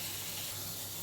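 Steam rushes out of a home pressure cooker as its lid is opened after cooking curry, a short, steady, close hiss that stays level for about a second.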